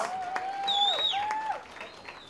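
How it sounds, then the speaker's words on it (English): A comedy show audience claps under a sustained whistled tone, a moderate wash of applause from a small crowd that gradually fades. "Give a round of applause."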